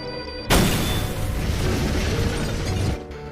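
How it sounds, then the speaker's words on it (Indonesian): A sudden loud blast of a large explosion at a police headquarters bursts in and sustains a dense roaring rumble for about two and a half seconds, then cuts off. "Sebuah ledakan besar terjadi di markas kepolisian itu."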